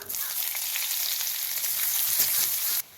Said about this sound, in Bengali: এই তেলের মধ্যে দিয়ে দেবো একটু গোটা জিরা, তারপর দিয়ে দেবো পেঁয়াজ